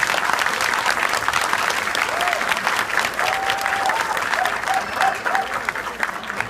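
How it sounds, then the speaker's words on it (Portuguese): Sustained audience applause for the staff at a Yu-Gi-Oh national championship tournament in a large hall, thick continuous clapping throughout, with a few faint voices and whistles mixed in. "Queria uma salva de palmas para esse pessoal que fez acontecer."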